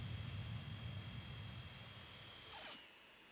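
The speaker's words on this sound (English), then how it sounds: "Now you come in, full plane from Stockholm." Airliner arriving in the city-building game Transport Fever 2, a faint steady low engine drone with a thin whine that swells briefly near the end before fading.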